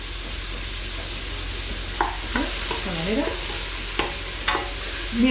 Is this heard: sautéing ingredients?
yes